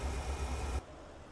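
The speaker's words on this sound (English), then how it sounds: "And we're back once again with this very quiet truck." Low, steady hum of a quiet Volvo truck engine idling in American Truck Simulator, heard briefly and close before it drops to a softer level, with no voices.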